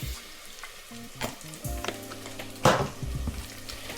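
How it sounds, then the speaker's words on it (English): Tandoori-marinated onions, dressed with lemon juice and tandoori masala, sizzle steadily in a hot pan while a utensil stirs and scrapes them, with louder clattering stirs near the end. "stir the onion, and they're starting to get really nice color"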